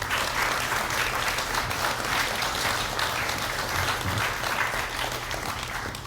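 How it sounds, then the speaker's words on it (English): A crowd at Hot Topics 2019 applauds Mayor Michael Victorino with a thick, even roar of clapping from many hands. It stays strong and unbroken the whole time, with a low hum running beneath it. "please join me in a big round of applause for Mayor Michael Victorino"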